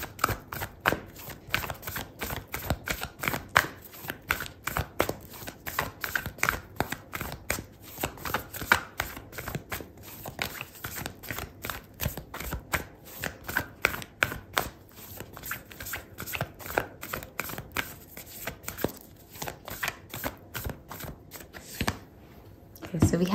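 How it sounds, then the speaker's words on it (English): Oracle cards shuffled and drawn during a Gemini love tarot reading, a dense run of quick flicking, riffling card sounds through the whole stretch, close and steady, with a voice speaking over parts of it. "I'm going to pull out an oracle card for you"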